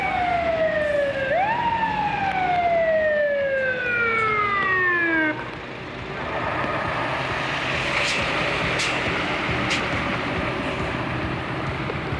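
A fire and rescue vehicle's siren wails close by with rising and falling sweeps, then cuts off as the vehicle arrives, leaving a steady engine rumble and traffic noise.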